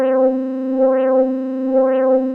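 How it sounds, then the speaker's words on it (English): A sustained synth tone has an LFO-driven wah sweep that opens and closes in a slow, regular rhythm, about once a second, loud and alone. "So we have this kind of nice wah pedal effect in this sound."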